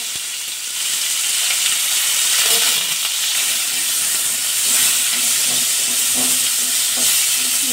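Onions sizzling in hot salted oil for a Bengali fish curry, a steady loud hiss that stays close and constant throughout with no talking.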